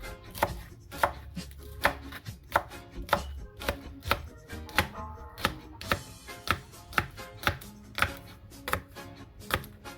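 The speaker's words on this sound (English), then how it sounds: "So I'm just going to chop this up." A knife chops scallion on a cutting board in a quick, even rhythm of sharp close thuds, each cut distinct, with no voices.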